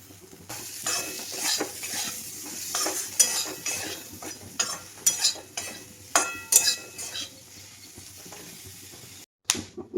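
Peanuts roasting in a pan with a gentle sizzle under repeated scraping and stirring strokes that come in uneven bursts, close, with a brief drop to silence near the end.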